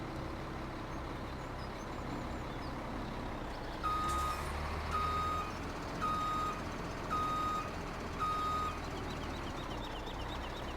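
Five evenly spaced reversing beeps sound from a vehicle backing up in the farming game Farming Simulator 17, set in the Pacific Northwest, each short tone standing out clearly over a steady low engine rumble.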